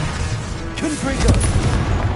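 A Confringo blasting spell in Hogwarts Legacy bursts with a short muffled boom over a dense layer of game noise, with a voice speaking through it.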